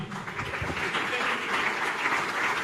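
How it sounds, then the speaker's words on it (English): Audience applause and clapping greet Dr. Peter Obi as he is welcomed onto a stage, a steady, dense wash of hands filling the whole stretch with a voice faintly mixed in. "Dr. Peter Obi, please keep clapping, keep clapping, keep clapping"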